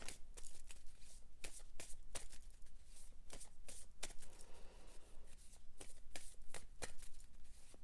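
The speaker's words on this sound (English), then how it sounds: "Let's shuffle 7 times." Tarot cards being shuffled seven times, a run of crisp riffling bursts and soft flutters at close range, with no talking.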